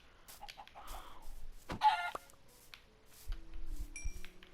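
Chicken clucks in Minecraft, a few short blocky calls scattered across a quiet scene with faint game ambience and a brief tonal ping near the end.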